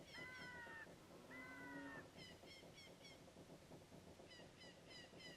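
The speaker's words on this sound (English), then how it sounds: "you can hear the birds, the crows, you can hear the cow in the background sometimes, you can also hear the windmill the entire time." Ambient game soundscape at Lon Lon Ranch in Zelda: Ocarina of Time, with repeated bird calls and crow-like cries layered over a faint continuous background hum, quiet and looping, no voices.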